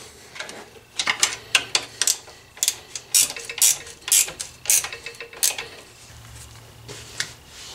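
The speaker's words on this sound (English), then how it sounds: "go ahead and tighten up the lower bolts on the frame, the 2 bolts on the frame" Ratchet wrench tightening 14mm lower frame bolts while fitting AltRider lower crash bars to a Honda Africa Twin CRF1000L: bursts of rapid, close mechanical clicking in short runs with brief pauses, fairly loud, no talking.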